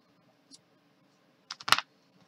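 Scissors snip off yarn while crocheting a blanket, a few faint, brief close clicks, with one small snip followed by a quick cluster of sharper cuts.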